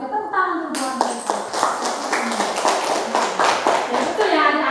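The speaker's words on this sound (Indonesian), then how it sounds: "Oke, tepuk tangan dulu buat mereka." Children clap for classmates in a school classroom, a quick burst of scattered applause that swells and carries on under a teacher's voice and children's chatter.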